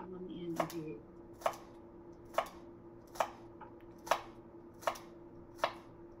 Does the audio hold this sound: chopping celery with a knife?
yes